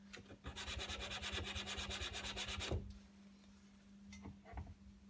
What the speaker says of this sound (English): This is just a sanding block with like 60 grit on it.